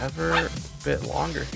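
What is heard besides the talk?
dog barking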